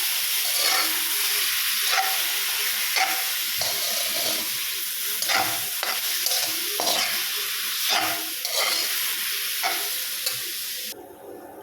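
Marinated chicken sizzles and fries in a pan with garlic, a steady close crackle broken by stirring scrapes and occasional pops throughout.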